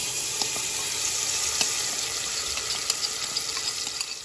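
Green seasoning, curry powder, ground jeera, salt and cut curry pepper sizzle in hot oil, a steady, bright crackling fry with small pops scattered throughout, close and continuous with no talking.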